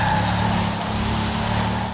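Sustained engine drone of a car racing at high speed in the video game Forza Horizon 4, a steady loud hum with layered harmonics and no talk.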